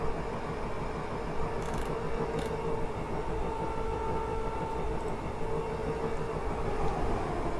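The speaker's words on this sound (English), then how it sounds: "Oops, is that a train?" A simulated three-car Class 320 passenger train on a suburban Glasgow route in a train simulator game gives a steady, continuous rail rumble and wheel noise at moderate level, with a couple of brief higher squeals.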